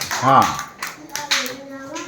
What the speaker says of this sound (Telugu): చప్పట్లు పెట్టండి వాడికి.